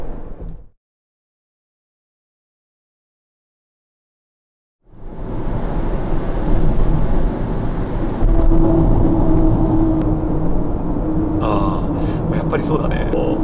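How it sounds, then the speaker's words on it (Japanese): Road noise inside a new Toyota Noah minivan on a mountain road: after a stretch of silence, a steady, loud cabin rumble and hum begins and continues to the end. "若干車内で反響する音はノアの方が小さい気がします。"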